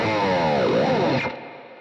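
A Charvel electric guitar played through distortion rings out as a thick, saturated chord with swirling, shifting overtones, then is cut short and fades into quiet after about a second and a half, with no talk.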